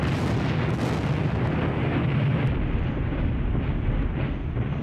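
Artillery fire in the Battles of Normandy war game, Operation Goodwood, heard as a dense, continuous roar of overlapping booms that rumbles steadily throughout without distinct pauses.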